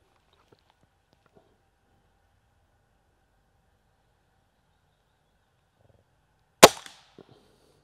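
After several seconds of near silence with faint handling noises, a Gamo Shadow IGT air rifle loaded with JSB pellets fires one loud, sharp shot, followed by a brief faint rattle.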